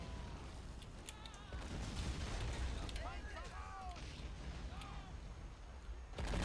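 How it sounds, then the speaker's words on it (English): Heavy artillery fire in the Men of War Assault Squad 2 video game: a continuous rumbling barrage with bursts and whistling shells, loud and sustained, with faint voices underneath. "Fucking heavy artillery."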